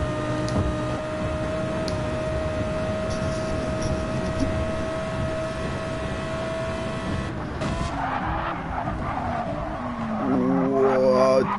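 Race car tires skid and squeal under very late braking in a racing video game, loud and continuous over a steady engine drone, with the squeal climbing in pitch near the end.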